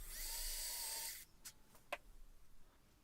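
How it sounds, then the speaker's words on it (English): A power drill whirs steadily at high speed for about a second, drilling small pilot holes into a wooden workbench, then stops, followed by a few faint clicks and taps. "I can just drill a couple of small pilot holes"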